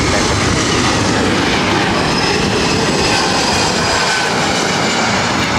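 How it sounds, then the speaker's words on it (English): A Delta Airlines jet, flight 1696, is lining up for takeoff on runway 24 Right at LAX, and its engines give a loud, continuous broadband roar that stays steady and close throughout. "Now lining up for takeoff, Delta Airlines 1696."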